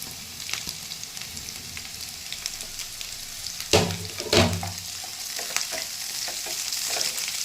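Long-cut onions and capsicum fry in a pan for sweet corn bhurji, a soft steady sizzle under repeated spatula scrapes and stirring, with two louder clattering stirs partway through.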